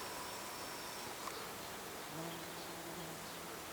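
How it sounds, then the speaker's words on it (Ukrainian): A bee buzzes while working on a flowering tree at a dacha, a faint, thin, continuous hum with shifting pitch against a quiet outdoor background. "працює на ньому бджола"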